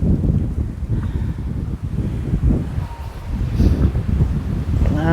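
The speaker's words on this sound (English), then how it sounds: "Ooh, that wind." Strong outdoor wind gusts buffet the microphone in a yard strewn with fallen tree limbs after a storm, a steady loud roar of rumbling noise that swells and eases throughout.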